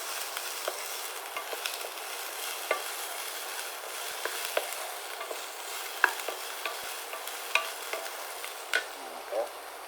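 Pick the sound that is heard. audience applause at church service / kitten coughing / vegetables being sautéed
vegetables being sautéed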